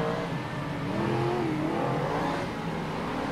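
Stock cars race around an oval in an Auckland teams championship, their engines roaring and revving loudly and continuously as they jostle for position, with no voices over the steady close engine din.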